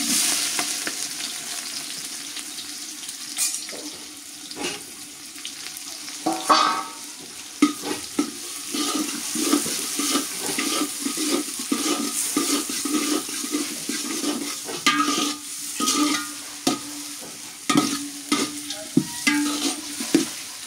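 Onions fry in a pot while a utensil stirs them steadily, scraping and rattling in an uneven rhythm over a continuous loud sizzle, close up, during village festival cooking. No one speaks.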